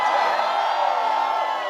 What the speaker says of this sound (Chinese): 第一件事， 尖叫。